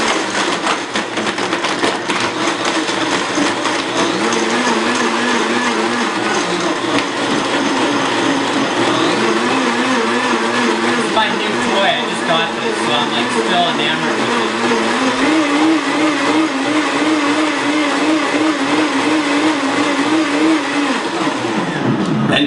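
A Blendtec blender on its smoothie setting blending ice, a continuous loud whirring motor whose pitch rises and shifts as the speed changes automatically, with brief speech over it.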